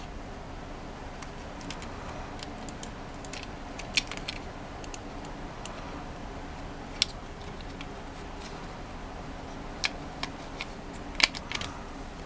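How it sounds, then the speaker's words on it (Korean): Screws come out of a Maxtill TRON G10 Pro keyboard as faint, close mechanical ticks and small metallic clicks, scattered irregularly over a quiet background with a few sharper taps. "일단 눈에 보이는 나사들을 제거해 주시고"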